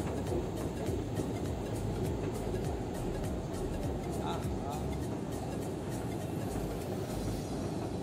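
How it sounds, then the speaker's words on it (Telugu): London Underground trains passing at speed through a station, a loud, continuous rumble with rail clatter that holds steady throughout. "చూశారు కదా మీరు ఎంత స్పీడ్గా వెళ్తున్నాయో ట్రైన్స్"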